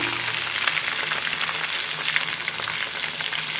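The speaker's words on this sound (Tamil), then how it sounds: "இது மாதிரி எல்லா பீஸும் பொறிச்சு எடுத்து வச்சுக்கலாம்" Chicken pieces deep-frying in oil for biryani, a dense, even, close bubbling sizzle that holds steady throughout with no voices.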